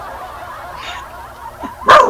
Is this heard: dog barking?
yes